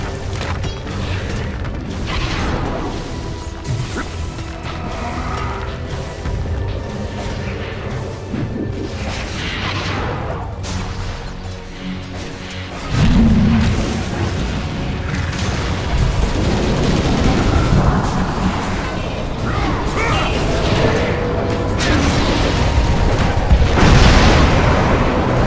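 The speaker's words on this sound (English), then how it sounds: "Radiant's middle tower is under attack." Dota 2 tower in Radiant's middle lane under attack, a dense, continuous wash of game combat with booming impacts, crashes and mechanical clatter that grows louder after a sudden surge partway through.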